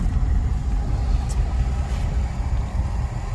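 A 1975 VAZ-2103 Zhiguli rolls along the road, a dense low engine rumble and road noise from inside the car, steady and fairly loud with no break.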